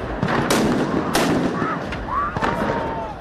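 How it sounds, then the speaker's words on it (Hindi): Sharp blasts go off in bursts during a street protest in Athens over a rail accident, with smoke bombs thrown at police, several loud bangs close together amid crowd noise and some voices. "बैकग्राउंड में धमाकों की आवाज सुनाई दे रही है।"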